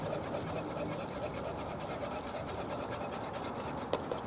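A whisk scrapes steadily around a pot as coarse ground yellow grits are poured in, giving a continuous, busy rhythmic swishing that stays close and even throughout.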